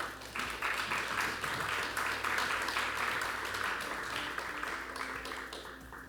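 A live audience at an evening panel on comics applauds warmly for a guest, a dense, steady wash of many hands clapping that holds for about six seconds before tapering slightly at the end.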